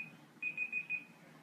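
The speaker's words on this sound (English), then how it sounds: "that's my timer" An electronic timer alarm beeps four quick times in a row, fairly quiet, over a faint background hum with no talking.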